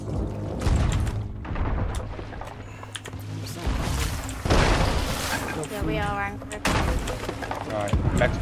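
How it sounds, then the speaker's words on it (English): Cannon shots boom repeatedly during a Sea of Thieves naval battle, mixed with splashes, creaking ship sounds and clatter, while players talk over the noise. "we got cannon shots on them now"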